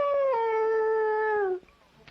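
A human voice imitates a dog, giving one drawn-out, howling, bark-like tone that holds for about a second and a half and then cuts off, followed by faint background sound.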